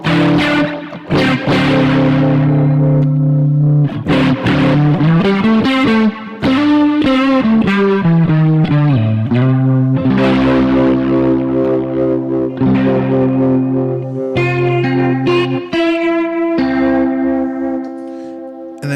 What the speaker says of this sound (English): It's got a really great rotary in there.